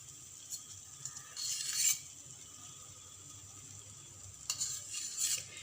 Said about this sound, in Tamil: இப்போ நம்ம கொஞ்சம் நெய் ஆட் பண்ணிக்கலாம்.